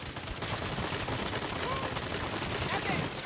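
Rapid gunfire from a boss's backpack-powered guns in Saints Row, a dense continuous rattle of shots at moderate level, heard alone without talk.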